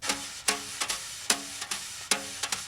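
A drum brush sweeps straight back and forth across a drumhead, producing repeated soft swishing strokes with sharper accented onsets in an even rhythm, close and clear with no talk.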